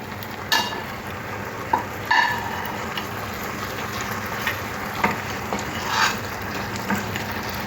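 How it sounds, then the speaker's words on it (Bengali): Fried katla fish is laid into a simmering cumin-paste curry, bringing a steady bubbling sizzle with a few soft clunks and scrapes of a utensil against the pan. "এরপরে এই ঝোলের মধ্যে এই ভেজে রাখা মাছগুলো দিয়ে দিচ্ছি।"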